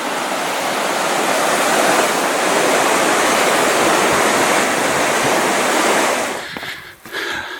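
The Little Qualicum River rushes in a loud, continuous roar of churning water heard up close, unbroken for several seconds before briefly dipping near the end, with no voices over it.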